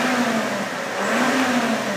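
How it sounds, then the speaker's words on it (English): A 2000 Cadillac DeVille engine runs loud and close, a steady mid-pitched hum with a gentle rise and fall in revs across the two seconds, no voices over it. "I'm going to give you a little bit of engine noise here."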